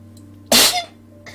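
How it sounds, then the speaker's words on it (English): One sharp, loud sneeze bursts out against a quiet background hum. "This is an awful time to sneeze."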